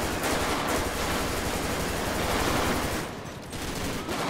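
Police officer's gun in GTA 5, firing in dense, continuous rapid bursts, loud and close, with a brief lull near the end before shooting resumes.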